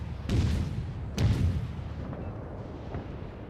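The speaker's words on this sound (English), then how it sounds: "I'm firing the HE ammo basically to set fires and wreak havoc on enemy cruisers as I can" Naval guns of the cruiser USS Charleston (C-22) fire HE shells in World of Warships, two heavy booming salvos a second apart with rumbling tails, then fainter distant thuds.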